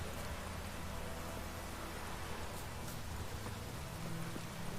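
Steady, dense rainfall in The Witcher 3 game, a continuous hiss of drops at moderate volume with a low rumble underneath and no clear voices.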